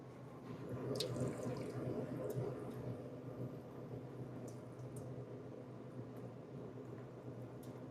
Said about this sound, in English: water fountain.